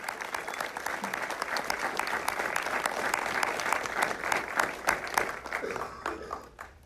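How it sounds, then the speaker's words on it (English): Applause rises from a theatre audience at a film screening Q&A with director Jeff Nichols for Midnight Special. The clapping is dense and fairly distant, holds steady, then thins out toward the end. "Can we have a round of applause for the next session?"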